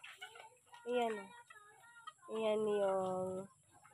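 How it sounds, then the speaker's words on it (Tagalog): Two close, drawn-out clucking calls from a chicken, the second longer, with softer bird chatter in between. "So, dito na naman yung mga manok."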